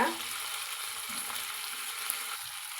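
Chopped tomato sautéing in a hot pan while making a white pea salna, giving a steady close sizzle and hiss that continues without a break and with no talking.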